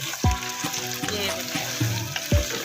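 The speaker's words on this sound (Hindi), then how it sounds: "अब इसको हल्का सा मैं फ्राई करूँ और फिर बाकी मसाले डालती हूँ आपके साथ।" Half a kilo of chicken fries in a pan with browned onions and a spoonful of ginger-garlic paste, sizzling steadily up close with several stirring clatters and scrapes.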